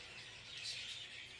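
Australian budgerigar in an aviary gives faint, high chirps and squeaks, a brief thin twitter over a quiet background.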